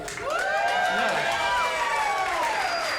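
Stand-up comedy audience cheering and whooping, a loud crowd roar with scattered shouts and whistles sustained for about three seconds.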